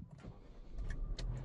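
A Jeep Compass 80th Anniversary special edition SUV starts by push button, a short starter crank catching into a low engine idle inside the cabin, with a few small clicks and no talk.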